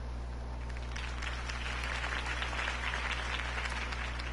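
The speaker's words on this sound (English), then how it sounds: "If only Mr. Wayne, my campaign's largest backer, could have heard that applause" Crowd applause at a political campaign rally in the Batman: The Telltale Series video game, a faint, steady wash of clapping over a low hum, with no single claps standing out.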